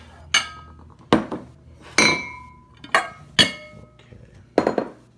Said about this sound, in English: I got all these different kind of bowls here.